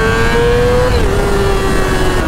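A motorcycle engine revs high and steady up close, its pitch holding, dipping briefly, then settling, loud and continuous with no talk.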